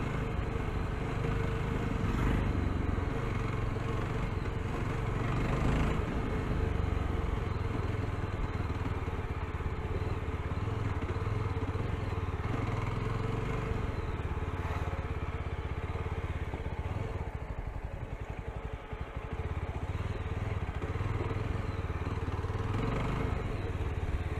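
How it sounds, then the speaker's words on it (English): A Yezdi Scrambler motorcycle ridden in road mode on a trail run, its engine droning steadily and close throughout with a constant low rumble, occasional surges in pitch, and wind noise over the top. "I'm riding in a road mode. So let's see how bike performs."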